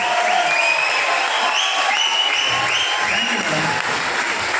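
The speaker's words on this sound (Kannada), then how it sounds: "ಒಮ್ಮೆ ಜೋರಾಗಿ ಇನ್ನೊಮ್ಮೆ ಚಪ್ಪಾಳೆ" Loud, dense applause from an audience at a talk in a hall, sustained clapping that fills the space without letup, with faint voices underneath.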